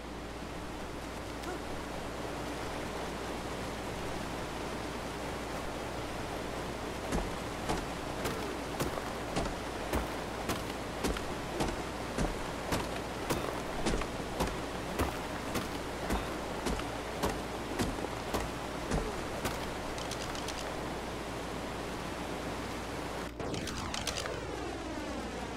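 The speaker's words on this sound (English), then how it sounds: "A waterfall sounds so crazy." A rushing waterfall in the video game Ark: Survival Evolved gives a constant broadband roar throughout, overlaid midway by a string of sharp, regularly spaced clicks and later a brief sweeping tone.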